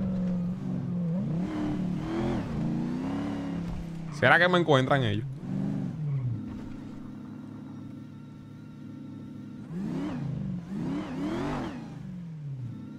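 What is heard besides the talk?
car engine revving in video game GTA V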